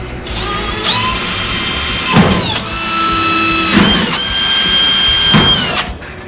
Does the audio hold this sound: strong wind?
no